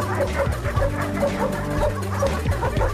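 A Doberman gives a short run of close, loud, repeated barks and yelps over a constant low hum, with no talking.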